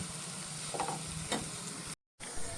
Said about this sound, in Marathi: व्यवस्थित भाजलं जाऊन तूप सोडेपर्यंत हे वाटण आपल्याला भाजून घ्यायचं आहे